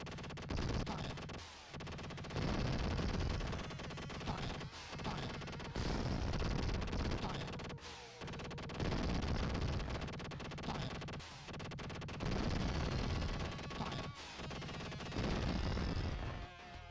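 Missiles firing in a Sega Saturn shooter game, loud sustained bursts of rumbling gunfire and blasts broken by short pauses, continuing throughout.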